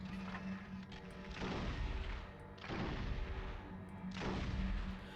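Gunfire from a double-shot gun in the Metal Arms video game: three heavy, booming bursts spaced about a second and a half apart, loud and close, with a low hum underneath.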